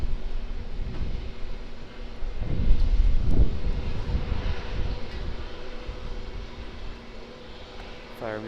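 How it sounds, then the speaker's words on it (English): A United Airlines Boeing 787-9 airliner bound for San Francisco rolls for takeoff at Auckland Airport, a steady distant engine roar swelling briefly then holding at a moderate level, with faint wind noise around it. "Now United Boeing 787-9 off to San Francisco"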